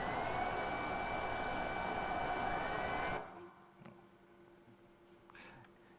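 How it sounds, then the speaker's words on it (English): Procedurally generated aircraft engine noise built in Unreal Engine, a steady loud broadband roar with high whining tones that cuts off abruptly about halfway, leaving near silence with a few faint clicks. "This is the engine noise of the aircraft, and it is designed all procedurally"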